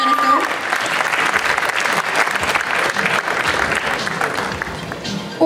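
An audience at a Lucia contest gives big sustained applause, loud and dense throughout, with voices mixed into the clapping.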